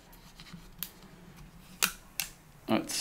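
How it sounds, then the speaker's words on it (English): A sticker comes off Beats Studio3 headphone packaging with a few sharp, close peeling and crinkling snaps scattered over quiet handling noise. "Take the sticker off."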